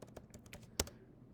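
A few keystrokes tap on a computer keyboard while entering an AutoCAD command, soft close clicks ending in one firmer key press, quiet and without talk.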